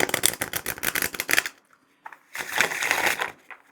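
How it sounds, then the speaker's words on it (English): A thick deck of tarot cards being shuffled by hand, a dense run of crisp riffling flutters, then a short pause and a second burst of shuffling, close and fairly loud with no talking. "that's a nice shuffle though."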